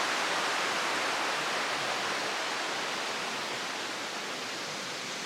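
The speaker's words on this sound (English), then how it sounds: "There's the 10 Mile River." Ten Mile River on the Appalachian Trail rushing past in a steady, unbroken broadband wash of flowing water, close and even throughout with no voices.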